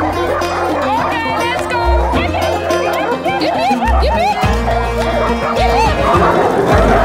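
Sled dogs bark and yip excitedly in a busy, loud mix, with bursts of barking overlapping a steady low rumble and occasional human voices.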